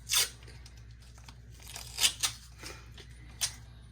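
Masking tape torn and pressed down while a Procolored printer is prepared for vacation mode, with several short sharp tearing and crinkling bursts spaced irregularly, close and fairly quiet.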